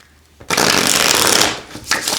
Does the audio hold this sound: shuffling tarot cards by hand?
yes